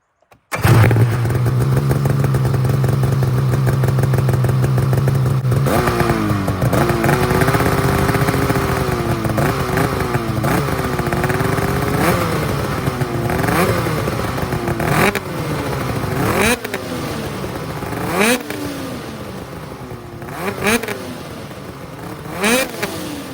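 Polaris Matryx 850 snowmobile fitted with a Straightline Performance Ultra Lite exhaust starts and idles loudly, then revs repeatedly in sharp rising-and-falling bursts, close and alone.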